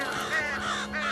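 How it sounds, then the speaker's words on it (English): Several crows caw loudly and harshly in a Simpsons cartoon scene, the rough calls overlapping over a steady low hum. "The crows actually take a liking to Homer since he killed their enemy"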